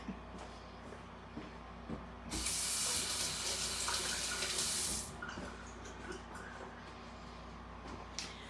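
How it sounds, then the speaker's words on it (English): A kitchen faucet runs in a steady broadband hiss for about three seconds as hands are rinsed under it, then shuts off, leaving quiet room noise with a few faint clinks. "let me give my hands a quick rinse"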